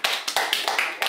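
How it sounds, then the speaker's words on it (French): A family clapping together in unison at home, a short burst of quick, close, crisp hand claps in a brisk irregular rhythm. "À trois, on l'applaudit tous."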